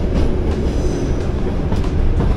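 A train runs on rails with a loud, continuous rumble and clatter up close, steady throughout with no voices.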